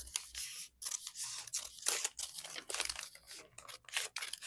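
Scissors trimming material for a handmade journal cover, a close series of crisp, uneven snips and slicing cuts with papery crinkles between them, no talk.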